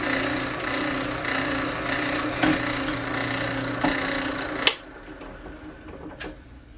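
A drill press bores a hole through MDF clamped in a vise, a steady mechanical whir with a couple of knocks that ends in a sharp clack before the motor quiets.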